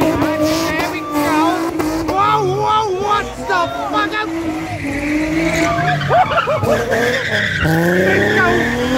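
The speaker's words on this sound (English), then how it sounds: "I want to learn how to drift." At an evening car meet, a car drifts with long, loud tire squeals that rise and fall in repeated wavering howls over engine roar, while people talk and shout nearby.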